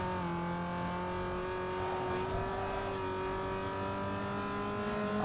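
Racing cars in Need for Speed Underground 2 overtaking, a continuous droning engine tone with sustained harmonics and a slight rise, steady and moderately loud, with no talking.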